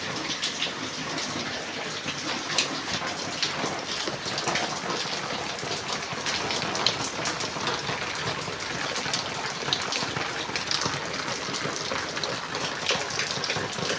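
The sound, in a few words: heavy rain pouring down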